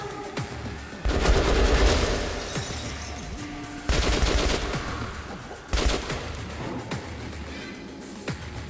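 Gunfire from a weapon in the video game Metro Last Light, loud bursts of automatic fire in several bouts with short gaps between them, with a dense crackling texture and sharp distinct reports.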